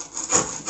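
A short, rasping scrape across a Tech Deck fingerboard deck as its graphics are worn off, one rough stroke that swells and fades, close and alone.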